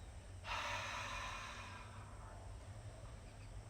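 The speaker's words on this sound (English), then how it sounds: "And on the exhale, fog up that mirror all together." A strong open-mouthed exhale during yoga breathing, a single breathy whoosh meant to fog a mirror, starting abruptly, then fading slowly over a couple of seconds against quiet room hum.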